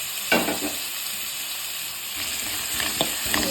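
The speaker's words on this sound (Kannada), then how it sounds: "ಈರುಳ್ಳಿ ಹಾಕಿ ಹುರಿಬೇಕಿದೆ" Onions fry with tomato and jaggery in a pan for carrot rice: a loud, even hiss of hot oil runs throughout, broken by a few scraping stirs, with no speech.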